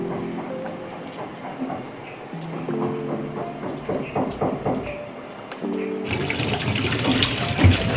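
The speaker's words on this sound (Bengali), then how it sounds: "এখন জলটা ঝরিয়ে এটাকে শুকো দেওয়া হয়েছে" Water from boiled green plantains pours and drains through a kitchen strainer, a steady splashing, trickling rush close by that swells louder near the end, with no talking.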